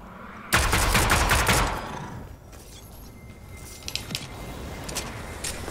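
A quick, loud volley of combat pistol shots in Fortnite Chapter 2 Season 8 fires at zombies, then gives way to quieter game ambience and a few scattered sharp clicks and pops near the end.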